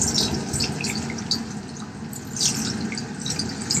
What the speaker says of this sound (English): Go back again, my warm water. Rinse that neutralizing shampoo out of there.